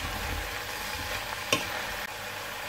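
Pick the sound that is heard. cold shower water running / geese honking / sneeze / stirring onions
stirring onions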